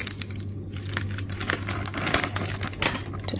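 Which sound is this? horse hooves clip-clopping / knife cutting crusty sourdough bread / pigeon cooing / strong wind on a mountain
knife cutting crusty sourdough bread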